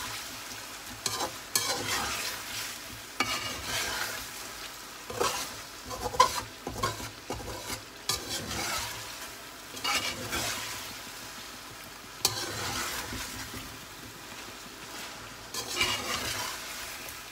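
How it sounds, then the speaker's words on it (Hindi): Chicken pieces fry with garlic and ginger in a karahi, a steady sizzle broken by repeated stirring scrapes and bursts of spattering oil, moderately close and with no talk. "लसन अदरक नूं चिकन दे नाल ही हल्का हल्का असी फ्राई कर लैंदे आ।"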